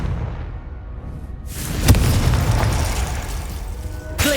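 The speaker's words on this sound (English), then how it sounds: "Confringo!" A Confringo blasting spell explodes in Hogwarts Legacy, a sharp crack followed by a loud, rumbling burst and crackling debris, then a second smaller impact near the end.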